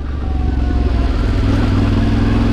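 A 2023 Yamaha Tenere 700 on knobby tyres rides steadily, its engine a close, continuous throbbing rumble mixed with wind, no talking.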